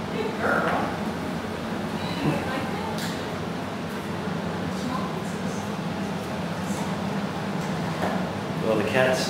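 Cat meowing indoors, a couple of brief meows near the start and end over a steady background hum.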